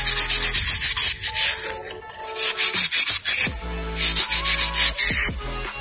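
Fine sandpaper rubbing over the piston of a BMW E90 engine during an overhaul for overheating, heard as close, rhythmic back-and-forth scraping strokes in quick bursts, pausing briefly around the middle before resuming.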